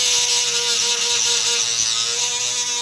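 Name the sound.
Dremel rotary tool porting a Chevy Cruze intake manifold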